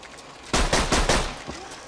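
A short, loud burst of automatic gunfire in the video game Borderlands 2, four or five quick, punchy shots in a row that fade into quieter game noise.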